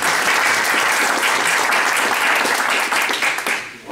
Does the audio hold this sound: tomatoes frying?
no